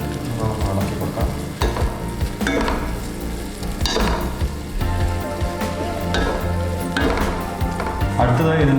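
Ginger garlic paste being stirred in a hot pan for a Kerala-style chicken tikka masala, with a steady oily sizzle and frying crackle and occasional soft scrapes of a spoon, continuous and close.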